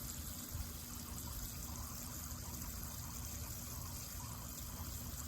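Gray water drains from a tank in a steady, faint, hissing flow that keeps up the whole time with no talking and no change in level.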